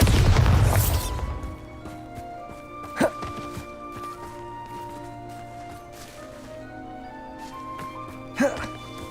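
In Hogwarts Legacy, a Bombarda spell lets off a heavy booming blast at the very start, then two sharp cracks follow some seconds apart over a quiet humming game ambience.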